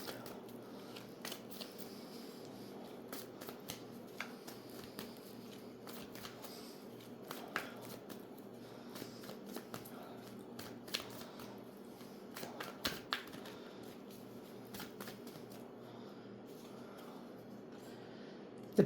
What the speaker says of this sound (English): I'm going to pull some tarot cards here.